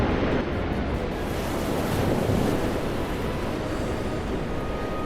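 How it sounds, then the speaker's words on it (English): Fierce storm waves surge and crash at sea in a steady, loud roar of broadband surf and wind, continuous throughout with no voices. "Suddenly, the storm brought fierce waves."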